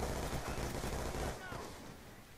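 Gunfire in the online multiplayer game Call of Duty Black Ops 2: dense, loud in-game shooting and battle noise that drops off sharply partway through, leaving fainter background game sound.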